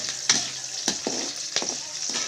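Fresh curry leaves frying in oil make a bright, crackling sizzle, close and fairly loud, with several sharp bursts and spatula scrapes over about two seconds and no talking.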